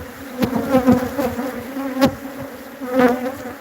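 Honey bees buzz loudly and close at a beehive opened for inspection of split colonies, a dense drone swelling and fading as individual bees pass near.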